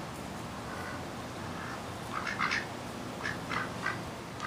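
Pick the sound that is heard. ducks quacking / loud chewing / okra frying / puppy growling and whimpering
ducks quacking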